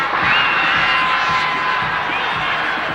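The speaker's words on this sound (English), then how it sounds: "The Antrim supporters standing on their feet, applauding their team" Antrim hurling supporters at Croke Park stand and applaud, a steady wash of crowd cheering and clapping with scattered whoops rolling on without a break.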